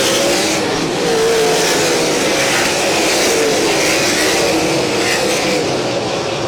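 Sprint cars on the ASCS National Tour at Valley Speedway roar down the straightaway, a loud continuous engine scream with rising and falling revs as the pack passes, with no voices over it.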